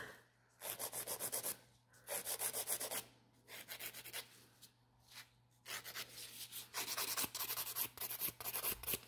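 A nail file rubs back and forth across fingernails to blend and strip old gel color, close, rhythmic bursts of scratchy abrasion separated by short pauses, with no talking.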